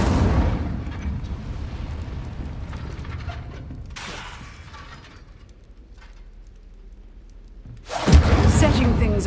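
The Incendio fire spell in Hogwarts Legacy bursts out as a whooshing, crackling blast at the start, another mid-clip and a louder one near the end, over a low game ambience.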